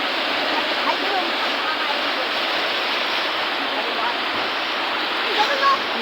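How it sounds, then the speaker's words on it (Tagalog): Rushing water of a river in flood at Barangay Sto. Niño, San Mateo, Rizal, a loud, steady broadband roar that runs unbroken throughout, close and dense, with faint voices now and then underneath. "Ang lakas ng tubig dito banda, oh."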